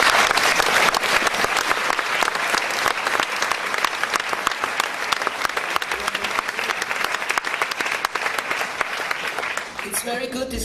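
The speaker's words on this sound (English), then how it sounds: "It's very good, this applause, because this applause is really important" Audience applause at a DiEM event in Vienna, a dense, loud sustained clapping from a crowd lasting about ten seconds before tapering off at the end.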